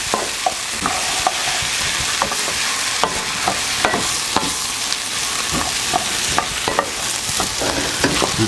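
Rice goes into a hot pan for a pilaf-style braised chicken dish. Repeated sharp scrapes and clicks of stirring ring out over a steady background sizzle, close and with no talking.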